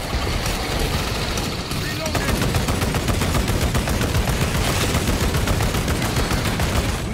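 Continuous heavy gunfire from orbital guns in the Warhammer 40,000 game Space Marine 2, a dense rapid barrage of shots that grows louder after a brief dip and holds steady to the end.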